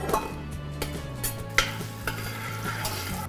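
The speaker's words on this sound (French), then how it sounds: "Dans la casserole, nous avons mis un peu de beurre pour faire rissoler cet oignon et l'ail." Onion and garlic fry in butter in a saucepan, a steady close sizzle with occasional stirring scrapes and small utensil clinks, no talking.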